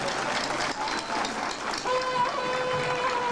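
A crowd at a secondary school graduation claps steadily for a few seconds, a dense patter of hands at moderate distance with a faint tone running underneath.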